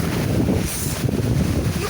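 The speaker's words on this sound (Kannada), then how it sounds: "ಗಾಳಿ ನೋಡಿ ಗಾಯ್ಸ್" Strong wind buffets outdoors on a rainy trip, roaring and rumbling against the microphone in heavy continuous gusts, close and loud.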